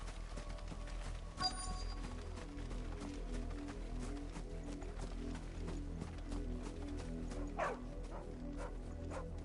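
A dog barks in the video game Final Fantasy XIV, giving a couple of short barks over a steady low background of game ambience and light clopping footsteps, fairly faint throughout.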